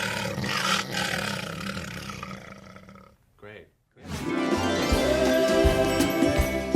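Deep, rumbling lion roars voiced by an actor for an animated film, loud and close. A long roar is followed by a brief pause, then a second sustained growling roar. The roars are imitations by a human voice.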